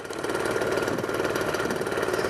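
A Simson motorcycle engine idles steadily after adjustments to its belt and idle speed, giving a close, even two-stroke putter with a regular pulsing rhythm and no talk.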